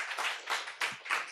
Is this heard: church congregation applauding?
yes